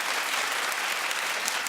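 Co-hosts clapping, a dense, continuous patter of applause from several hands, steady and moderately loud with no voices over it.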